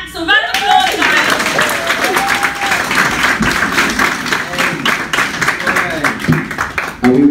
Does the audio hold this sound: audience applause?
yes